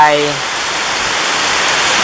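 Rain pours down in Chumphon, Thailand, a loud, dense, steady hiss of falling water, close by, preceded by a brief voice fading out at the very start.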